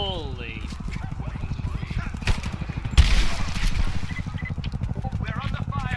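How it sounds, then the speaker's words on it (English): Gunfire at the edge of a village in the video game Rise of the Tomb Raider rattles in rapid, steady bursts with a sharp louder crack midway, while voices speak over it. "We're under fire at the edge of the village."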